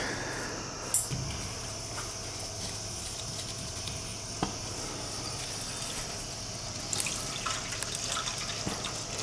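Water runs steadily into a large Weil-McLain boiler after a stuck feeder frees up, a constant close trickle and hiss with a few sharp clicks and drips over it. No talking.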